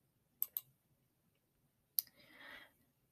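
Computer mouse clicks, a quick pair of sharp clicks and then a single click followed by a brief soft rustle, all close and quiet.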